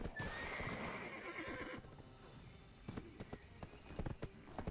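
Horse in the Black Desert game lets out a loud whinny, then its hooves clip-clop in a quick galloping rhythm, close and alone without talk.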